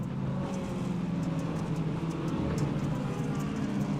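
A field of full contact ministock race cars rolling around the Weedsport track in a sim racing game, a steady continuous engine drone from several cars at moderate distance with no distinct passes.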